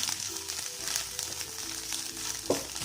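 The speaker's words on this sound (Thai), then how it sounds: "ใส่กระเทียมลงไปคนๆก็พอให้กระเทียมเราสุกแล้วเนาะ" Garlic sizzles and fries in a hot pan over high heat alongside sliced chili for a chili-and-salt egg dish, a steady close crackle with a brief louder scrape of stirring near the end.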